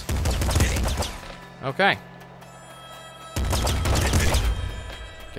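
Rapid gunfire from a machine gun in the video game Nuclear Throne, loud bursts at the start and again after a pause, with a short spoken word in the quiet gap.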